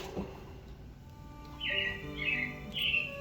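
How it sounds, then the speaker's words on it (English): Robin birdsong plays in the Carousel of Progress show at Magic Kingdom, several bright chirping phrases in quick succession over a soft tonal musical background. "It looks like the Robins are getting ready to celebrate Valentine's Day today."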